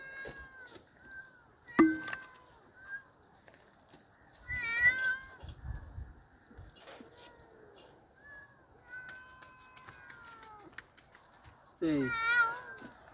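Kitten on a homestead giving several short, high meows spread across the clip, close and fairly clear, between bursts of people talking and some handling knocks.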